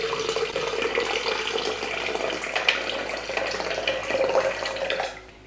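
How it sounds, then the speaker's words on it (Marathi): Water pouring in a steady stream into a glass, splashing and filling for several seconds before tapering off at the end. "एक ग्लासभर पाणी आपल्याला ओतून घ्यायचं आहे"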